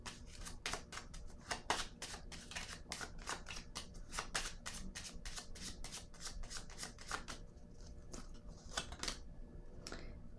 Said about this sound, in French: Je vais piger une petite carte ici.